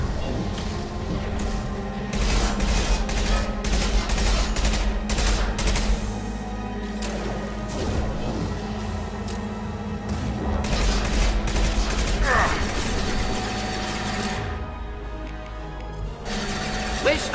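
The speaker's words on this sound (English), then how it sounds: "Taking heavy fire!" Heavy gunfire rages in a Mass Effect 2 battle, with continuous loud bursts of automatic fire and booming impacts throughout, while voices speak over the combat.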